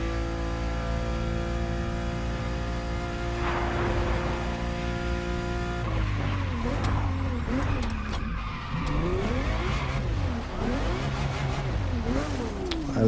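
A Ferrari Testarossa in The Crew Motorfest racing game, its engine droning steadily and then revving up and down in rising and falling sweeps, with some tire noise, loud and close throughout.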